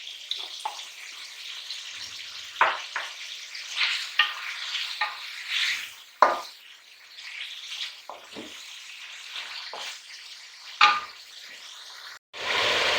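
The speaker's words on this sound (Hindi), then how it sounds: "जी हम गरम मसाला डाल के इसको फ्राई करेंगे।" Mutton liver fries with garam masala in a pan, giving a continuous soft sizzle broken by repeated scraping stirs of a spoon, close and fairly quiet with no talking.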